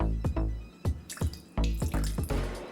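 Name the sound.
water poured into eggs in a bowl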